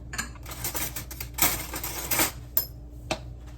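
Buttermilk and eggs for a southern sweet potato pie are dumped into a bowl, giving quiet clinks, taps and soft clatters of utensils and dishware in a short, uneven burst, with no voice.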